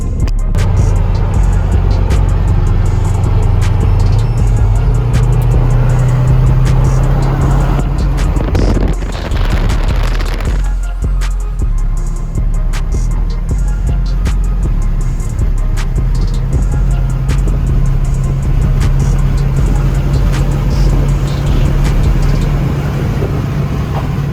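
Car driving on the road on a hot day, a steady loud engine and road drone heard from inside, with a brief louder rush midway.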